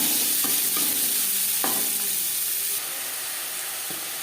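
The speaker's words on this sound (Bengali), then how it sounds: "মাছ ভেজে নেওয়া তেলে দিয়ে দিলাম পেঁয়াজ" Onions frying in oil left over from frying katla fish, giving a loud, steady, close sizzle with a few scraping stirs and clicks.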